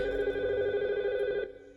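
A telephone bell rings in one sustained electronic trill, loud and close, then cuts off abruptly.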